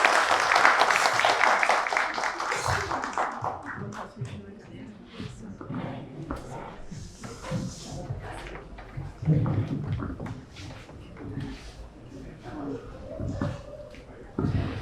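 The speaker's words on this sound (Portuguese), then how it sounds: "Salve de palmas!" A live talk-show audience applauds speakers on stage in a dense burst of clapping at the start that fades as people begin talking over a busy room.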